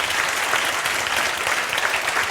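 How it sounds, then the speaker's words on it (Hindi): An audience claps loudly all at once, cheering a student's new post as a pharmacy officer. The applause is a dense, even burst lasting a couple of seconds, with no pauses. "जोरदार बजाओ ताली।"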